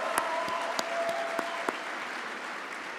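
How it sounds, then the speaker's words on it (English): Steady applause from a conference audience at a student veterans' national gathering, a dense, continuous patter of many hands clapping at moderate distance with a few sharper claps standing out, fading slightly toward the end. "So one more round of applause for family members"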